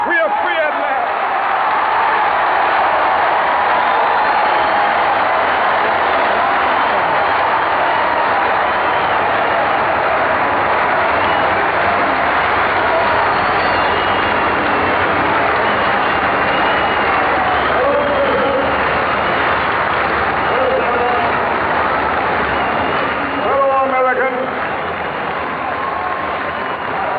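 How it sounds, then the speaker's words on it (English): A huge crowd at the March on Washington applauds the Reverend Dr. Martin Luther King Jr. after his speech, a steady, dense roar of clapping and cheering that runs throughout, with a voice talking over it. "Tremendous applause for the Reverend Dr. Martin Luther King, Jr."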